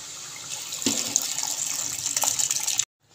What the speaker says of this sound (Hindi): अब यहाँ पर डाल देंगे हम दाल जो हमने बॉयल की थी।